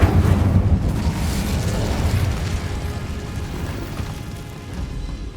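An Incendio fire spell goes off in Hogwarts Legacy on PS5, a loud roaring, rumbling burst that is strongest at the start and then settles into a sustained crackling, whooshing blaze with no voices.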